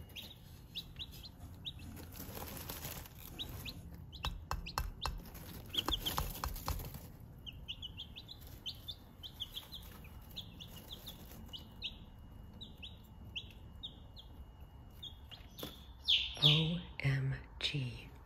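Young chickens in a pen chirp and peep in a fast scatter of short high calls, with a few clucks. Quiet shuffling and bumping sounds run underneath, and there is a louder burst of activity near the end.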